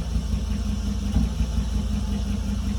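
A clapped-out 2nd gen Ram truck's engine running low on gas, idling as a steady, loud low rumble with a slight uneven pulse and no voices.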